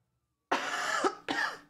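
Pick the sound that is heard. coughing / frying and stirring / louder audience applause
coughing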